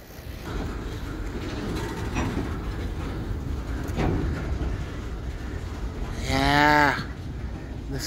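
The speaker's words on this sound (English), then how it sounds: "I can get a video shot of the train when it's going on those tracks over here" Long freight train passing slowly along nearby tracks, a steady rumble with rail clatter, interrupted near the end by a loud cow moo.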